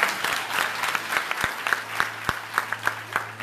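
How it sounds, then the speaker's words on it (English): Scattered clapping from a small church crowd, uneven and lively, with a low steady hum underneath. "Come on, clap for Jesus,"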